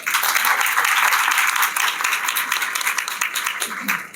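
A steady round of applause from a symposium audience at a zootechnics event, dense crowd clapping throughout, loud and sustained, with faint voices mixed in.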